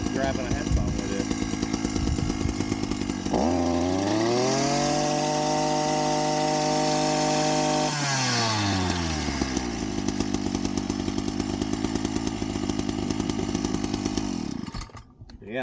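PROYAMA 42.7cc 5-in-1 gas trimming tool with a large muffler, its two-stroke engine running loud and close, revving up to a high whine for a few seconds before settling back to a rough idle, with a person talking over it.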